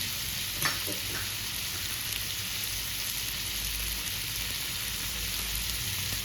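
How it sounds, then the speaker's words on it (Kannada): Cashews frying softly in melted butter give a steady, even crackling sizzle that runs close and alone for the whole stretch, with one small tap near the start. "ನಾವು ಬೆಣ್ಣೆಲೇ ಫ್ರೈ ಮಾಡಬೇಕು"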